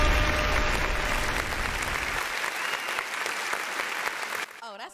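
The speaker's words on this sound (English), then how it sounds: "Oh, that's an extended clap." Extended audience clapping on a talk show, dense, loud applause sustained for several seconds, thinning slightly midway before cutting off, with voices emerging at the end.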